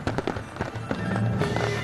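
High-altitude fireworks for a national day celebration in Taipei burst in rapid, loud cracks and booms close together, with voices heard faintly in the background.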